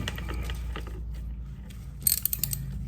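A nut on a Graco GX-7 spray gun, used for lifting concrete, is loosened with a ratcheting tool, giving a quiet series of clicks and a few sharper metallic ticks near the end.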